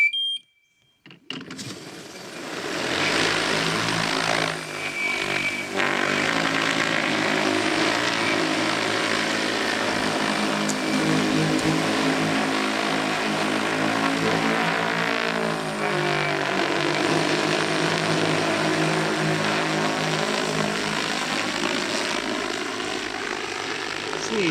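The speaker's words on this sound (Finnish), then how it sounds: "Ja nyt se sitten pimppaa ja nousee." An XAG P100 Pro agricultural drone lifts off for spring fertilising of a caraway field, its rotors building to a loud, steady propeller whine and roar that holds close and continuous after a brief start.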